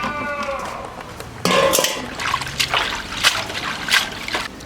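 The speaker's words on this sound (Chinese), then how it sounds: "用清水洗一下" Clean water trickles and splashes while something is rinsed in a kitchen during stir-frying of pork with wild fern; close, uneven bursts of running water that start partway through.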